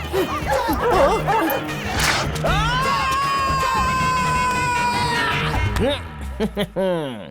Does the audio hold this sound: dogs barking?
yes